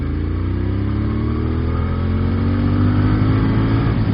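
A 2016 Moto Guzzi Griso 1200 V-twin motorcycle engine revs up loudly and continuously nearby, its pitch climbing steadily throughout with no voices.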